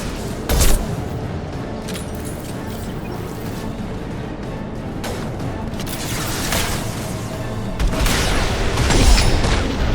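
Heavy gunfire and booming blasts in the video game Mass Effect 2, with loud, sustained shooting and explosive thuds rolling on throughout and intensifying toward the end.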